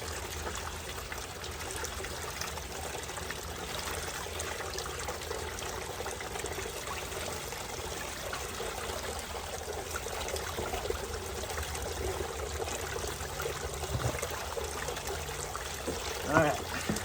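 Tap water running over a Dream Mat to rinse out bubbles, a long even trickle and pour at low level, steady throughout with a brief clunk near the end and faint voice in the background.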